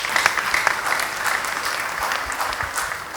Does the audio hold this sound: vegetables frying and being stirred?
no